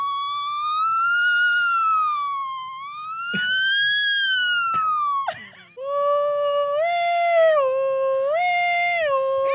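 A human voice imitates an ambulance siren with long rising and falling wails, a brief break with a few sharp clicks, then a stepped two-tone siren pattern, loud and close without any speech.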